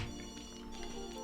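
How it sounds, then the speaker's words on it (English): A phone ringing in The Sims 2, a quiet electronic ring with steady tonal chirps running throughout the short moment, with no talk over it. "I don't know whose phone keeps going off"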